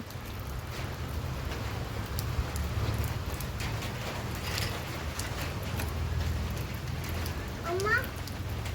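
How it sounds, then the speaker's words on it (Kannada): Steady monsoon rain pours down in a dense, continuous hiss, with a faint low rumble underneath and a brief chirping sound near the end. "ಇವತ್ತೊಟ್ಟು ಇಡೀ ದಿವ್ಸ ಮಳೆನೇ ಅವಲ್ಲ"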